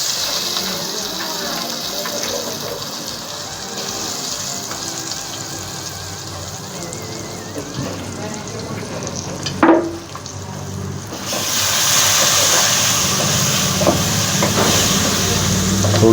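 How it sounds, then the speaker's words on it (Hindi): Tomatoes fry with spices in a pot, giving a steady broadband sizzle and hiss with a brief louder splash near the middle as they go in, the frying rising and brightening afterwards. "थोड़ी देर भूनेंगे टमाटर डालने के बाद"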